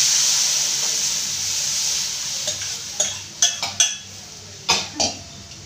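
A spoon stirs kadhi of gram flour and buttermilk, tempered with curry leaves, asafoetida, green chilli and mustard seed, in a pot over a soft bubbling background, with a run of sharp metallic clinks and scrapes in the second half.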